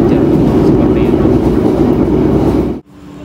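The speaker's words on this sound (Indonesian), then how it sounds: "saat ini perjalanan kereta api Mutiara Selatan sudah sampai di stasiun Banjar" Mutiara Selatan passenger train running on the rails, a loud, steady rolling roar of wheels and carriage noise heard from on board, cutting off abruptly near the end to a quieter hum.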